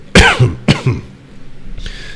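Two sharp coughs close together, followed by a short breathy rustle; near and fairly loud, with no talking.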